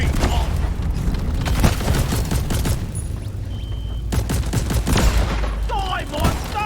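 Sentry gun in the video game Deep Rock Galactic firing repeated bursts of gunfire and booms amid dense in-game combat noise, loud and close throughout.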